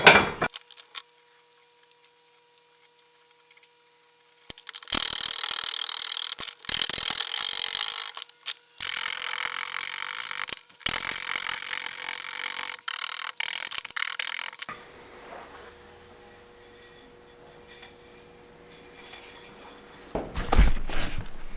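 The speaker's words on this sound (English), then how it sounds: "I'm going to use a rasp." A rasp files the end of a wooden hammer handle in repeated scraping strokes, loud and close through the middle stretch, easing to quieter rubbing and then a final short burst.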